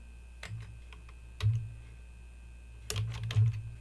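Scattered keystrokes on a computer keyboard while code is entered, a few sharp close clicks in short bursts separated by quiet pauses, no voices.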